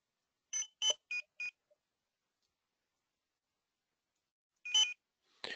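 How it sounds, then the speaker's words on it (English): A Zebra barcode scanner's beeper plays short electronic beep sequences: four quick tones, a pause of silence, then two more beeps, clear and alone. "I can beep the beeper."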